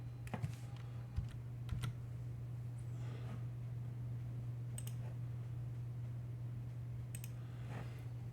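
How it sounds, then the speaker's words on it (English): Scattered keystrokes on a computer keyboard tap out a few sparse, quiet clicks in small clusters over a steady low electrical hum. "Okay, and then you're typing in"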